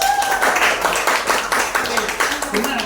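Classroom students clapping together in a short burst of hand claps, fairly close and even, mixed with some room noise and a faint voice.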